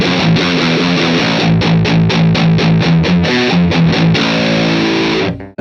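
A heavily distorted electric guitar through an Orange high-gain amp chugs through a tight, palm-muted riff in quick rhythmic bursts, loud and close, then cuts off.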